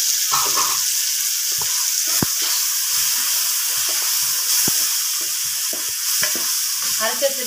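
Onions and tomatoes with turmeric sautéing in a pan for a mutton curry: a continuous close sizzle and hiss with scattered scraping stir strokes and light clinks over the frying.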